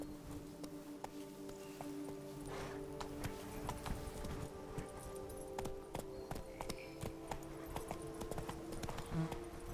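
Horse hooves clip-clop at a steady galloping rhythm in a video game, close and continuous, over a dense layer of game music and ambient noise.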